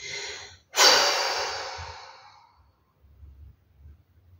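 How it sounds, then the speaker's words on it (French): One forceful exhaled breath bursts out close to the microphone, loud at first and then trailing off over about two seconds, with soft breathing before and after. "Et je reviens à la position initiale en soufflant fort."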